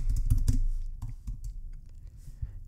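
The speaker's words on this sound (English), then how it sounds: "So I'm just going to type this in Google." Quick, uneven clicks of fingers typing on a computer keyboard, loud and close, in short bursts with small pauses and nothing else behind them.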